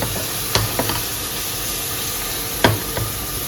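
Steady sizzling of minced meat frying in a pan, with a few sharp clatters of a utensil stirring and scraping at intervals.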